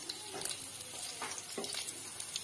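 Chopped garlic and green chillies dropped into hot oil, sizzling faintly and steadily with a few brief bursts of crackle and stirring, quiet and up close.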